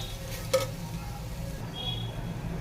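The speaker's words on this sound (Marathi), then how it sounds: "आपल्याला तेल सुटेपर्यंत छान असं हे तीन ते चार मिनिट परतून घ्यायचं आहे" Ground masala paste sautés in hot oil for spicy chicken gravy, giving a soft, steady sizzle with a single scrape of a stirring spoon against the pan, close and fairly quiet, with no talking.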